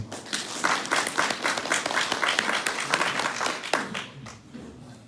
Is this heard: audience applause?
yes